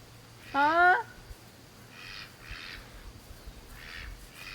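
A farm duck gives one loud, close nasal quack, followed by several fainter, rougher calls from nearby birds over a low background hum.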